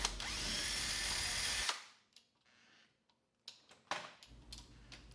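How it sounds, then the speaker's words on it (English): A cordless drill with an extended Phillips bit unscrews the bolts of a door lockset, giving a loud buzzing whir for under two seconds, then a pause, followed by short clicks and brief bursts of handling noise nearby. "take your drill gun with an extended Phillips bit and unscrew the two bolts on the inside of the Lockset"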